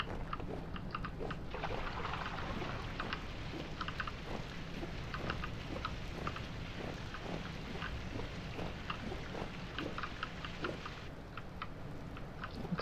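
Steady rainfall in the Vintage Story video game, a continuous hissing patter with scattered sharper drops, moderately loud and unbroken throughout.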